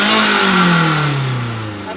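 A BMW E36 engine with its exhaust resonator deleted revs and then falls away in a droning, raspy tone, loud and close, with the pitch sliding steadily downward over two seconds.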